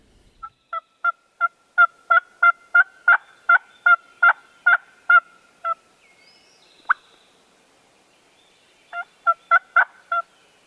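A wild turkey gobbles in a swamp early in the season. A long, even run of loud, clear calls gives way to a short pause and a single note, then another quick burst, all sharp against a quiet background.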